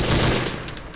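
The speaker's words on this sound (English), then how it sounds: "Motherfuckers got machine guns." Dense burst of automatic machine gun fire in a World War II werewolf horror film, loud and close, with rapid overlapping shots forming a continuous roar across the full second and no voices.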